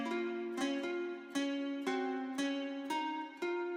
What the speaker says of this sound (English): And first of all, the guitar sounded like this.